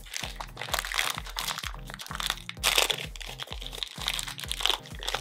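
Plastic blind-bag packets of collectible figures crinkle and crunch as they are torn open, with dense, close crackling bursts in an irregular, steady stream and no voices.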